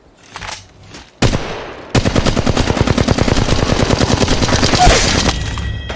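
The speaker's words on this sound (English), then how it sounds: "Shooting." Sustained automatic gunfire from a weapon in Apex Legends Mobile during a ranked match, a rapid, loud string of shots running steadily for several seconds after a brief burst and pause.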